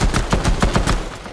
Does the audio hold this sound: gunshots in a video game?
yes